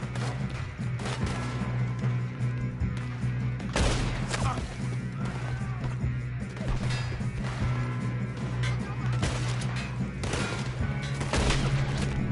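Gunshots in the Western video game Red Dead Redemption 2 crack out at irregular intervals over a steady game soundscape, fairly loud and close.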